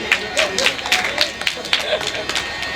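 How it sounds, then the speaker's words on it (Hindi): Audience clapping at a Ramayana recitation by a village manas troupe, a scattered burst of claps mixed with crowd murmur and a voice speaking over it. "शाबाश ताली बजाइए"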